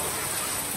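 Steady, dense hiss of rain falling on a beach, filling the short moment evenly with no distinct drops standing out and no voices.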